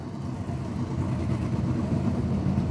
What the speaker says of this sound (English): So the Hydraulic pace car peels off to the infield.